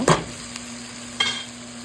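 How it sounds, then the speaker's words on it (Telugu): Organic noodles and vegetables stir-fried in a pan: two short, close scraping stirs over a quiet, faint sizzle. "నేను ఇప్పుడు న్యూడిల్స్ ఇట్లా పొడి పొడిగా వేస్తున్నానండి."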